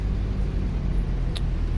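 An Optare Solo bus engine in the game OMSI 2 rumbles loud and close, a steady low drone with one brief high chirp partway through.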